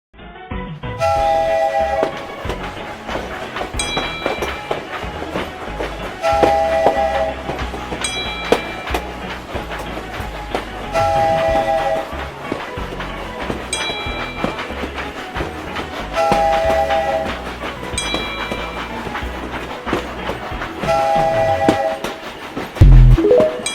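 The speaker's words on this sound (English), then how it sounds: "There's a small tank locomotive here," said the engineer." A small tank locomotive runs on rails with a loud, steady rolling clatter. Repeating tonal notes sound over the rhythmic clicking across the whole stretch.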